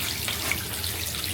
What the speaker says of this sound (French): Venez voir quand elle fait couler le robinet.